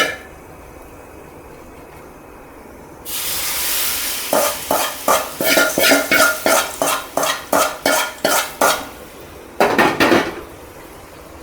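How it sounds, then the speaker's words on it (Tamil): Green chutney stirred after hot tempering oil is poured over it, giving a rapid series of close, loud metallic spoon scrapes and clinks against the bowl in a steady rhythm, with a brief sizzle before and no talking. "இந்த எண்ணெய் சூடான எண்ணெயை வந்து அப்படியே அந்த சட்னி மேலே சேர்த்துடலாம்"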